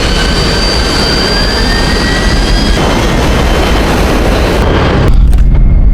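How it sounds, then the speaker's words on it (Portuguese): Jet airliner engines roar loud and steady in a tense bird strike scene from the film Sully, a continuous heavy drone with a high whine that fades partway before a deep rumble takes over at the end. "Essa é do avião do Sully atingindo os pássaros, que eu acho uma cena bem tensa"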